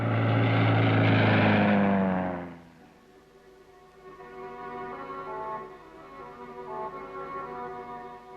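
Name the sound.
Australian Army spotter plane flying, Vietnam War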